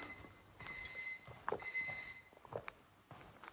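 A persistent kitchen-style timer alarm rings in a barn during cleaning, sounding as steady high beeping tones in two bursts, moderately faint beneath footsteps, clatter and handling noises.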